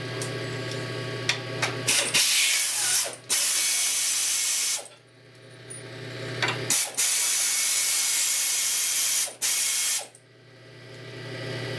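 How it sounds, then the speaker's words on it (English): Ratchet backing bolts out, with stretches of rapid mechanical clicking broken by abrupt stops and a steady background hum, close and without talk. "now we're going to go ahead and pull these bolts out"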